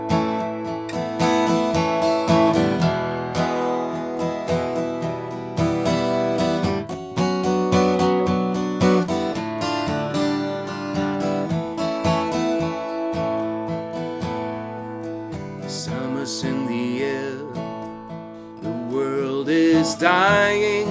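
Studio recording of a band's full song made at SAE Berlin, with dense sustained instruments playing continuously at a steady loud level and the mix thinning briefly near the end.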